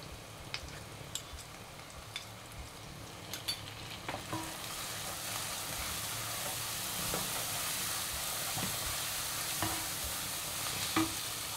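Spice pastes of chili, coriander and cumin frying in a pan for a spicy Bengali desi chicken curry, a steady close sizzle with scraping stir strokes and occasional sharp pops, no talking.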